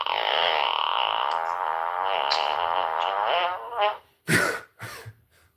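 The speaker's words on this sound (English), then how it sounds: "This is a fart button." A comedic fart sound effect played from a novelty fart button: a long, buzzy, sputtering blast that sputters out, followed by a few short, sharper bursts, with no talking.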